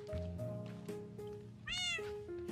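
A Minecraft cat meows several times, each cry short and clear over soft background game sound, with one brighter, higher-pitched meow standing out near the middle.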